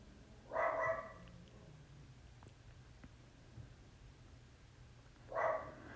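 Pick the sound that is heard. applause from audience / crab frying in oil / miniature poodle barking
miniature poodle barking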